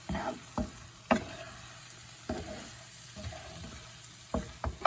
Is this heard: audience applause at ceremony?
no